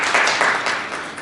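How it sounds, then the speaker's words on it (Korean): Audience applause for a lecturer introduced to speak on spaceship environments and human-computer interaction in science-fiction films, a steady, dense clapping wash with no voices, holding at an even level for its whole brief length. "박수 부탁드립니다"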